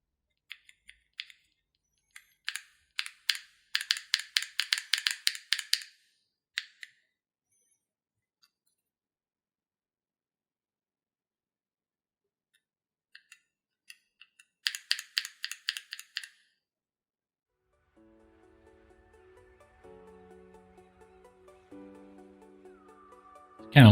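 Typing on a Razer Blackwidow Chroma V2 mechanical keyboard with yellow switches, two bursts of rapid, crisp key clacks separated by silence, close and clear, followed by faint background music.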